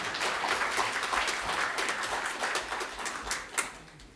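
Dense, continuous applause from an audience at a Buddhist service held in the National Assembly, loud and even throughout with a slight swell near the end.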